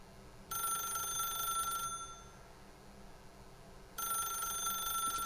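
An electronic telephone bell rings in the video game The Stanley Parable, two bright trilling bursts separated by a pause, clear and fairly near over a faint ambient hum.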